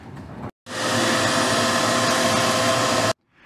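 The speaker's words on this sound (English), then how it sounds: "all of the crud that came off in the injector hole, we're gonna go ahead and just vacuum all of that out" A shop vac sucks debris out of an injector hole on a Cummins 12-valve diesel engine, a loud steady whoosh switched on for under three seconds then cut off, close to the microphone with no talking.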